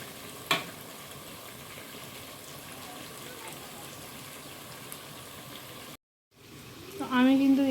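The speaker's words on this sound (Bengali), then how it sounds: "এই যে এখানে রান্না হচ্ছে আজকে চিকেনটা কে রান্না করছে বলো তো?" Chicken curry sizzles steadily in a pan with a sharp pop near the start, then a brief silence, and a person speaks over the cooking at the end.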